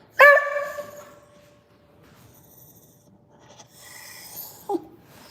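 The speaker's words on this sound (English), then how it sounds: "We're not barking in the house." A single sharp dog bark or yip up front, then a quieter stretch with faint rustling and a brief second yelp near the end.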